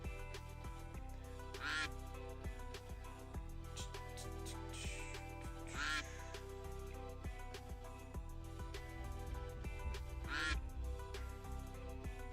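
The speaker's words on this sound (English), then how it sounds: "Love the holidays because of the ducks." Ducks quack in a few loud, raspy bursts spaced several seconds apart over steady background music.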